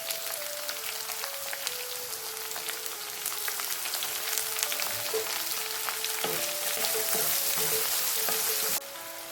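Chopped small onions sizzling in a pan while cooking a soya roast, a steady close frying hiss with crackles and occasional stirring, rising slightly louder partway through; no one speaks.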